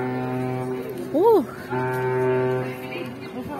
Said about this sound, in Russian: Гудок парохода.